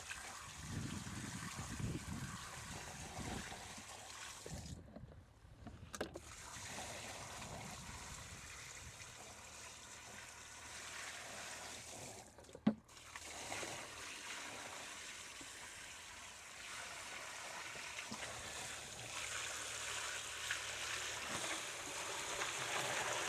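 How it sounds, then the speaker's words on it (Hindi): Water pours steadily into a 200-litre plastic tank holding jaggery and fertilizer ingredients, making a continuous splashing gush that stays fairly quiet and even throughout. "अब इसमें 100 लीटर पानी डालेंगे।"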